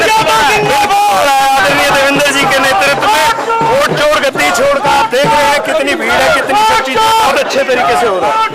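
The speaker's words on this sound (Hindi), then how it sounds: "आप देख रहे हैं कितनी भीड़ है" A large crowd of marchers at a political protest rally in a market, a dense babble of many voices and chanting filling the scene loudly and continuously.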